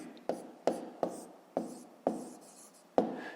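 Handwriting with a pen on paper while working a fifth-grade maths exercise: six quick, soft scratching strokes, each a sharp start fading away, close and quiet, with no one talking.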